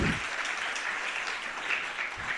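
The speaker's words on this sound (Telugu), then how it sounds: "ఏది చప్పట్లు కొట్టి దేవుని స్తుతించండి." A church congregation claps together in a steady, continuous wash of applause that stays moderately loud and even throughout, with no voices standing out.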